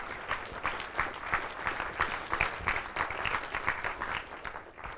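An audience applauds at the closing ceremony of a physics tournament, dense continuous clapping from a crowd in a room, steady and fairly full for the whole stretch.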